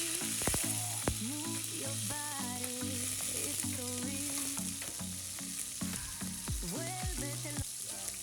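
Garlic fries in a pan with a continuous soft crackling sizzle and a few scattered stirring taps, fairly quiet, over a faint tonal melody running in the background.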